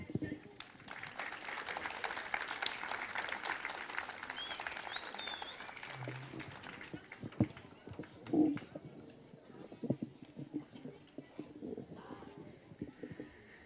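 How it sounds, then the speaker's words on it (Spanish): Applause rises after the school director's speech at a preventive-program launch event held at a secondary school in Nueva Bilbao, a fairly faint, scattered crowd clapping that thins out, with a few louder knocks and bumps later on. "Que sea más fuerte ese aplauso para agradecer las palabras de la directora de la Escuela Superior Nueva Bilbao."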